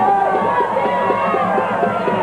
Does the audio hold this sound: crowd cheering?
yes